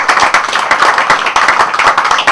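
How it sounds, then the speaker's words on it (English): Audience at a charity dinner in a restaurant applauding, dense steady clapping from many hands, close and loud throughout. "A round of applause for them for giving their time."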